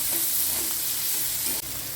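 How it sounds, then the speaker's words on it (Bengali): Chopped tomato fries in a pan with a steady, close sizzle, and soft stirring scrapes rise briefly here and there, with no talk. "টমেটো কুচি বেশ খানিকটা, সেটা মিশিয়ে হালকা করে ভাজবো বেশ কিছুক্ষণ"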